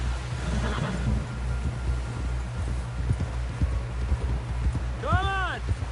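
Horse hooves clip-clopping at a trot in Red Dead Redemption 2, a steady run of soft thuds under wind, with a voice calling out briefly near the end.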